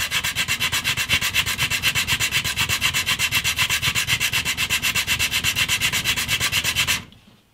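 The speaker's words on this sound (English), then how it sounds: "60 grit sandpaper on this block" Wood on a bass guitar body is sanded by hand with 60 grit sandpaper on a block, producing loud, close rhythmic rasping strokes in an even back-and-forth pattern that stops abruptly near the end.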